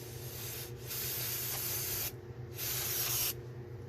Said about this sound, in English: Spray a little brake clean on it.